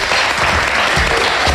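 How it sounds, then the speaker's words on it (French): Loud, dense applause from an audience fills the whole short stretch, even and sustained at close range. "Je pense que nous pouvons les applaudir."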